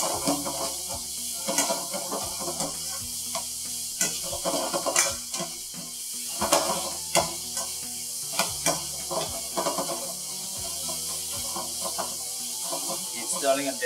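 Beef and vegetables are stir-fried in a pan for phad krapow, with a steady hiss of frying under repeated metallic scrapes and clinks of stirring, close and moderately quiet.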